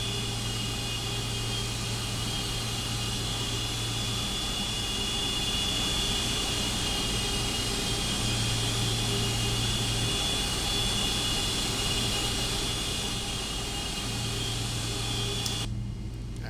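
Steady roar of Boeing 777-200LR jet engines in the X-Plane 11 flight simulator, a loud continuous broadband whine with a faint high tone, unbroken throughout with no talk.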